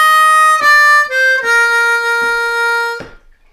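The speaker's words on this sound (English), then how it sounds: "and then lick 5 is going to sound like this," Lick 5 on a Bb harmonica: a short run of four or five reedy draw and blow notes, the last one held and wavering, played close and clear with no talking.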